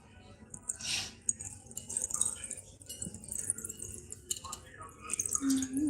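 Rain in Bengal drips and splashes close by in uneven patters, with a voice talking faintly in the background.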